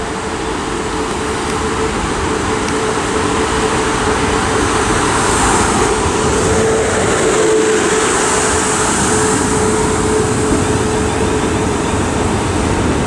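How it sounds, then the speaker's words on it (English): South Western Railway Class 450 electric unit 450567 pulling into Southampton Central on the line to Poole, a loud, continuous rumble with a faint steady motor whine that swells slightly midway. "450-567 it is indeed. Heading to Poole. This will be stopping right up here."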